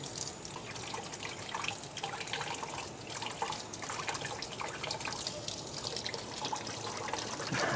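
A steady stream of tap water runs into a kitchen sink while a tablespoon is rinsed under it, with a constant close rush and faint clinks and trickles throughout.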